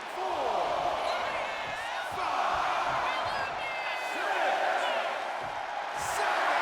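Arena crowd at a no holds barred Raw wrestling match roars continuously, a loud dense wall of cheering and shouting with scattered whoops and calls throughout, swelling and holding steady across the whole stretch.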